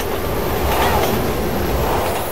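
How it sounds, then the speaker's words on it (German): A train rumbles past in the video game Resident Evil 6, a steady loud roar of rail noise with wheel clatter that swells slightly midway and holds for the whole stretch, with no talk over it. "Ja, Zug kommt."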